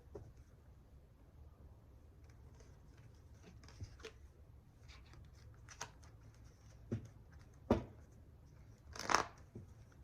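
Tarot cards are shuffled quietly up close, soft riffling and light taps with a few sharper flicks, no talking.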